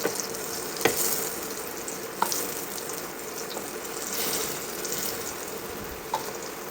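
Potato pieces seasoned with salt and turmeric fry in a pan of oil toward light golden, giving a steady, even sizzle with a few sharp utensil taps scattered through.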